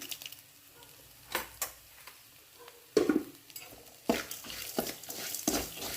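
Sizzling and frying in a pan while sautéing for neem flower rasam, with intermittent scraping stirs and clinks of a utensil against the pot, close by and without talk.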